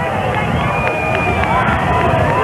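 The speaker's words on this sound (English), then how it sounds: "Now as he becomes more visible down to this end, the people cheer." A large outdoor crowd at Dallas Love Field cheers as President Kennedy's motorcade arrives on November 22, 1963, a steady roar of many voices with scattered shouts.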